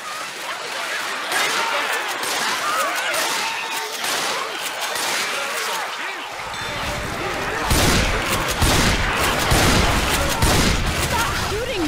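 Dense gunfire crackles and booms in the zombie video game Left 4 Dead 2, rapid overlapping shots and explosions filling the scene, loud and continuous, with a character's voice shouting over it.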